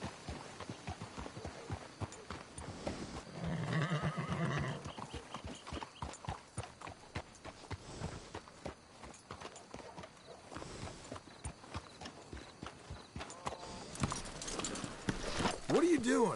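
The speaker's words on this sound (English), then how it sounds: "Let's hitch the horses up ahead." Horse hooves clip-clop steadily with a whinny partway through, while people talk over them, in the video game Red Dead Redemption 2.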